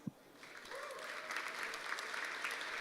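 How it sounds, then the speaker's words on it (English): Conference audience applauding the event's sponsors, a soft, fairly distant wash of clapping that swells and holds steady, with a single sharp knock at the start. "So please, a little round of applause."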